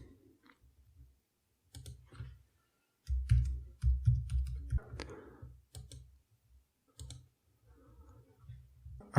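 Keyboard typing and mouse clicks on a Mac M1 while logging in to NordVPN, coming in close irregular bursts of taps and clicks separated by short pauses.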